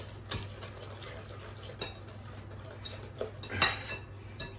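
Mashed potato is fluffed in a bowl, producing soft, irregular clinks and scrapes of a utensil against the dish, with a few sharper taps standing out over a quiet background.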